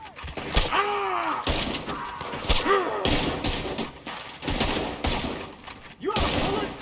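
Gunfire in the video game Red Dead Redemption II, rapid repeated shots in a close, loud firefight with background music, heavy thumps and groans of characters.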